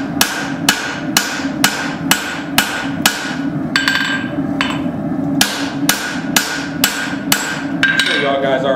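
A hatchet head is forged on an anvil with loud, ringing hammer blows landing in a steady rhythm, roughly two per second, with a brief pause midway and no talk.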